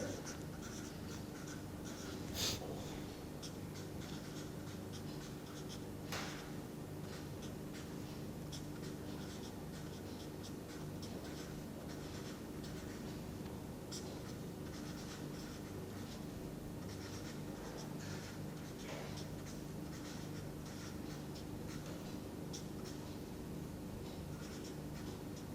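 Chalk or marker scratches across a board while a chemical reaction is written out, with continuous faint strokes and a couple of sharper taps, quiet and distant, no one talking.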